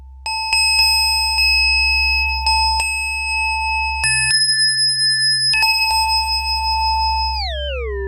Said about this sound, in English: put things on my fingers, such as this metal thimble thing, to go ahead and get very metallic sounds